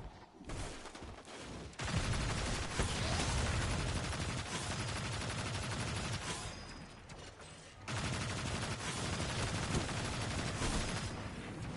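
Auto rifle gunfire in the video game Destiny, with loud sustained rapid bursts that fill almost the whole stretch and pause briefly twice.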